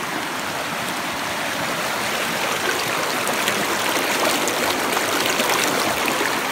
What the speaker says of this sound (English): there's not much water running through it, so I'm going to have to divert some of that water over this way to have a better flow